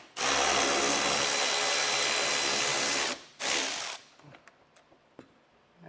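Power drill backing out 8mm screws from the recessed underside of a 2021 Jeep Wrangler during a tow base plate install, a loud continuous whir of about three seconds, a brief pause, then a second short burst followed by light clanks.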